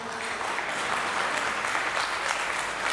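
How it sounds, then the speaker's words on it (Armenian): Warm, steady applause from wedding guests honoring the godfather and godmother at a celebration, dense and loud throughout with no pauses. "Եկեք ծափարենք նրան, շատ ջերմ, բարձր"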